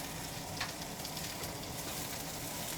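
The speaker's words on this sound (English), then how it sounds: "while that's sauteing" Food for omurice sautés quietly in a pan, a low, even sizzling hiss that runs unbroken throughout with a faint tap or two and no talk.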